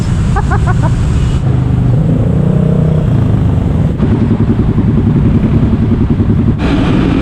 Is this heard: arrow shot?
no